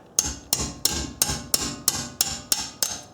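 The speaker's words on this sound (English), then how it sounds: "what I'm going to do is use a hammer" Nine sharp metallic hammer blows on a Honda Accord brake bolt in a steady rhythm, each ringing briefly before the next, close and loud with no talking.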